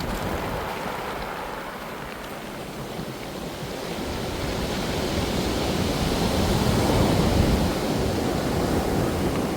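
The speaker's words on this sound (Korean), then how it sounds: "지금 문무대왕릉 앞쪽에 파도가 상당히 지금 거세지고 있습니다만" Strong sea waves roll in front of King Munmu's tomb on the Korean coast, a loud, continuous roar of surf with gusty wind on the microphone that builds slightly over ten seconds, with no voices.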